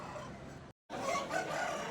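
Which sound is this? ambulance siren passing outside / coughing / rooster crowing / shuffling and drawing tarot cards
rooster crowing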